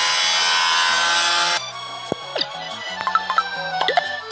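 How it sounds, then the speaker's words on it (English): A cartoon saw cuts a wooden log for a raft in a children's ship-captain video game, a loud, harsh rasping burst at the start that stops abruptly, followed by bright playful chimes and plinking game tones. "The new log is too long. Please cut it short."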